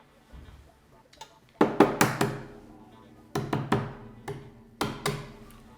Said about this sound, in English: Crack the egg open.